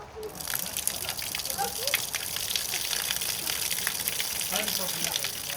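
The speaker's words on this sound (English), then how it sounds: "on the final day we have downpour" Steady, dense hiss of heavy rain pouring down, loud and continuous with splashing water throughout, no voices.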